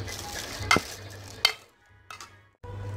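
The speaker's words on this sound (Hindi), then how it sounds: "एक tea spoon chaat masala powder one fourth tea spoon और काली मिर्च पाउडर डाल देंगे मिक्स कर लेंगे" Fruit chaat (kachaalu) being stirred and mixed with chaat masala and black pepper, a few sharp scraping clinks of a spoon against the bowl over soft rustling, close and fairly quiet with short pauses.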